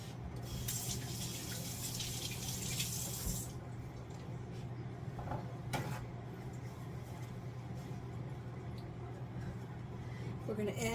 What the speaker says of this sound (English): Let me wash my hands right quick while that's cooking.